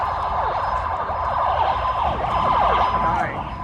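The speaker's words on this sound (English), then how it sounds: "Oh, there's lots of sirens." Several emergency sirens wail at once near a protest, overlapping rising and falling tones that stay loud and continuous throughout.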